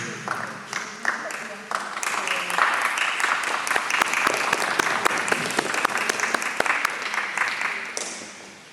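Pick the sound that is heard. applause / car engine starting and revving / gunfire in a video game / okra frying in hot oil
applause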